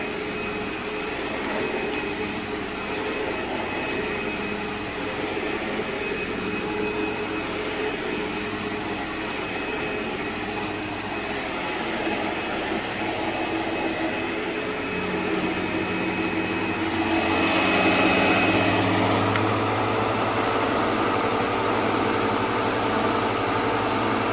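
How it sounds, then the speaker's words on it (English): An X series vacuum cleaner runs steadily with a continuous whining motor drone and airy hiss. Near the end the pitch shifts and the sound grows slightly louder and fuller. "So the X series is definitely a very popular series of vacuum."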